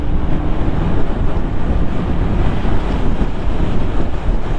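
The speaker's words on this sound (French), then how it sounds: "le bruit du vent passe ici" Wind buffets loudly around an HJC F100 modular motorcycle helmet while riding, a close, dense, low rumbling roar that pulses unevenly and never lets up, with no speech.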